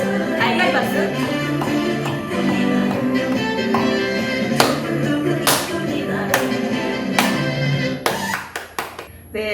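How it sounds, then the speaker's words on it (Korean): Hand-clapping exercises for elderly participants, with repeated sharp claps in a steady rhythm over background music, ending in a few louder isolated claps. "봉우리 박수. 달걀 박수."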